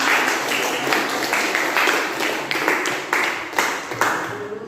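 A classroom of students clapping hands together in a rhythmic pattern, with bursts of claps sounding in waves over a few seconds, fairly loud and close, without speech over it.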